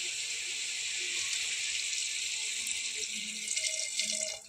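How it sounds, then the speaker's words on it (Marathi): Half a litre of water is poured into mutton in a pressure cooker as a steady, close splashing rush that runs unbroken for several seconds and then stops abruptly. "आता वरून आपण अर्धा लिटर पाणी टाकून घेऊया त्यामध्ये।"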